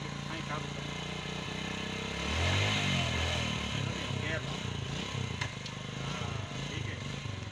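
A motorcycle's engine runs close by during a riding lesson for children, idling and then revving as the clutch is eased out, while an instructor talks over the steady engine drone.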